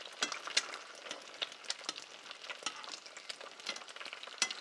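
An egg frying in deep hot oil in a pan for a Thai fried egg, giving a steady crackling sizzle with frequent sharp spattering pops, close and fairly quiet, with no talking.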